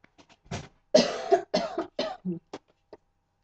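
A burst of several harsh, irritated allergy coughs in quick succession, close and fairly loud, trailing off into softer throat sounds.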